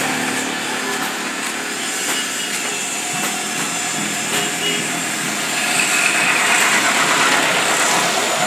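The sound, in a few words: engine of a jack car idling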